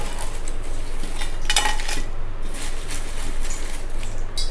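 Dried potato slices are lifted out of a lidded stainless steel jar with a brief metallic clink and rattle at mid-clip, over a steady low background hum.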